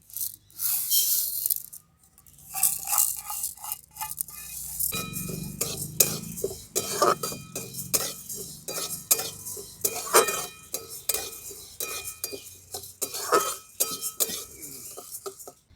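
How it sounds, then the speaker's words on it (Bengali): Dry pigeon pea dal gets stirred in an empty wok, giving close, repeated scraping and rattling as the spoon rakes the grains against the metal, with light clinks in an uneven rhythm. "এই অড়হর ডালগুলোকে আমি একটু শুকনো কড়ার মধ্যে নেড়ে নেবো"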